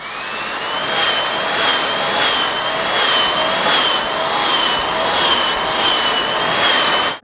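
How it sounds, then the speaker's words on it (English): A steady, loud electric whir of a hair dryer runs continuously with a high whine, close to the microphone and without pauses. "I am going to take the blow dryer"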